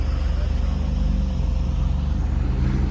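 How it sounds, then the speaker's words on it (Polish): A car pulls up nearby in an Alpine mountain setting, its engine a steady, loud low rumble throughout with faint voices underneath. "Auto z Indonezji przyjechało."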